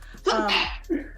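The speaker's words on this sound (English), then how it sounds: "We all sneeze." A single close sneeze from a man during a gaming podcast, a quick intake followed by a sharp burst and a short trailing breath.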